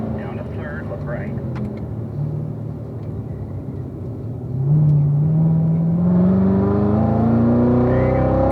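A race car lapping Spring Mountain track, its engine holding a low rumble before revving hard through upshifts into fourth and fifth, the pitch climbing steadily and loudly near the end with no talk.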